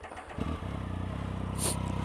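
A short clunk, then a 2015 Triumph Speed Triple ABS motorcycle engine catches and settles into a steady, close rumble with a brief hiss.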